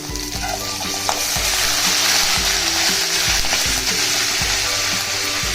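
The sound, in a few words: frying chana dal, urad dal and curry leaves in pan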